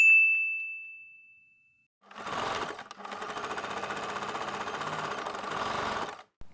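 A sewing machine stitches a beginner zipper pouch using a regular presser foot, running in a steady, loud mechanical whir for about four seconds with a brief pause, preceded by a clear ding that rings out and fades.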